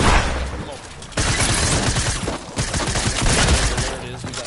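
Gunfire from a common tactical shotgun in a video game, loud and dense with overlapping shots and battle noise throughout, and a voice talking underneath.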